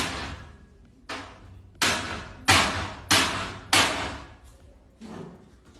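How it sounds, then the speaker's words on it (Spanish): Door being broken down to force entry into a house, heard as a series of about eight heavy, sharp impacts at irregular intervals, each a loud crash that rings briefly before the next blow. "Están rompiendo la puerta para entrar."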